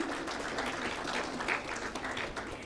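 An awards ceremony audience applauds the first runner-up at the Plan India Impact Awards, a steady, fairly soft wash of many hands clapping from a large room, continuous throughout.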